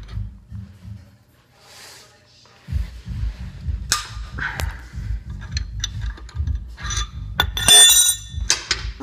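A cheater wrench breaks a stuck bolt loose on a 3.8 GT Mitsubishi Eclipse while fitting an OBX header, giving sharp metallic clinks and a crack over low, rumbling handling noise and shifting clunks, close by.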